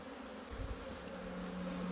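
Cold honey bees in a hive box give off a faint, low, steady buzz that swells slightly midway, with a soft hum holding near and even.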